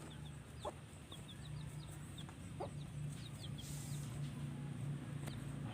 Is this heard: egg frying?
no